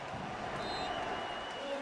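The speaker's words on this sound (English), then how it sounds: "Loud crowd, and that means a raucous crowd at the Superdome in New Orleans, Louisiana" Raucous football crowd roar at the Superdome in New Orleans during a Saints game, a steady dense wash of noise with a commentator speaking over it.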